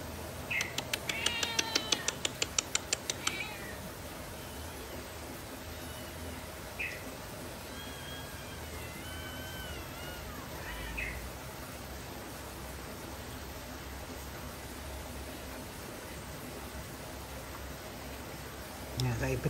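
Several kittens meow and caterwaul, loudest in a rapid cluster at the start and then in scattered cries over steady background hiss, with some talk nearby.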